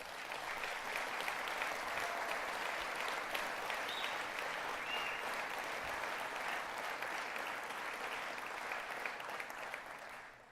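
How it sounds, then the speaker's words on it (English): An awards-ceremony crowd gives the honorees a long, sustained round of applause, even and full, tapering off slightly at the very end. "one more really big round of applause for all of our honorees tonight"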